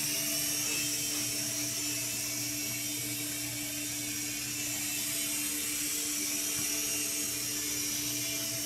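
A small Syma Speed S5 remote-control toy helicopter flies close by, its rotor and tiny motor giving a continuous high whirring buzz with a steady mechanical hum, no voices.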